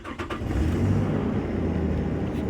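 Nissan Pathfinder engine revved by pressing the gas pedal, a steady loud mid-pitched engine drone rising slightly and holding throughout, close by with no talk.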